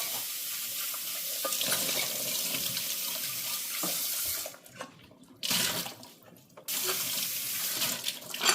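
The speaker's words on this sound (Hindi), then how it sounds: "दोनों सब्जियों को मैंने दोबारा से धोया है।" Water runs steadily from a kitchen tap as vegetables are rinsed under it, splashing close and loud. The flow is broken by a few short pauses and then resumes.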